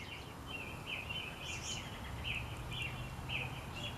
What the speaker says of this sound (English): Can you hear them? They're chirping out there.